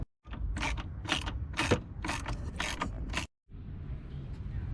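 Ratcheting wrench loosening the battery hold-down nut on a 2014-or-newer Jeep Cherokee, a run of close, creaky clicking strokes in bursts, followed by a short pause and softer mechanical noise.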